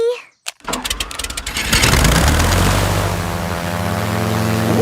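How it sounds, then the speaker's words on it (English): A cartoon toy aeroplane's propeller engine whines and drones as it flies and loops, rising loud after a brief gap and holding a steady buzzing tone close by. "The toy aeroplane is doing a loop-the-loop."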